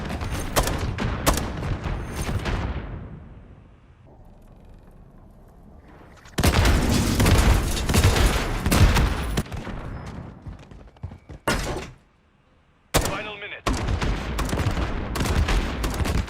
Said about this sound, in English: just start shooting as fast as you can.